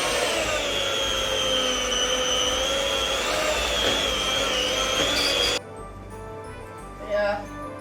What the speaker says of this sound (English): we're going to use our trusty hand whisk